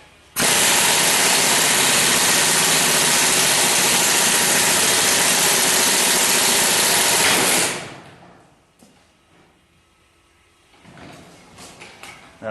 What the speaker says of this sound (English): Okay, here we go, trying it with the impact wrench.